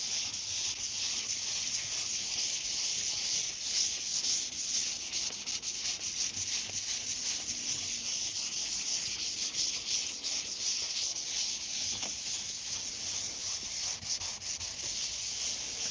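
A sanding block with 320-grit paper is rubbed over primer on a car body panel, giving a continuous soft, hissing, scratchy rasp with a steady back-and-forth rhythm, close and fairly quiet, with no talking.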